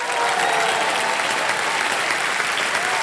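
A studio audience on a televised quiz show breaks into steady, dense applause, loud and sustained clapping from a large crowd with no pauses.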